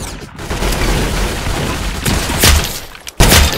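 Gunfire in the Roblox shooter Arsenal on mobile: a dense fusillade of rapid game gunshots that runs continuously, with heavier bursts toward the end and close, loud booms.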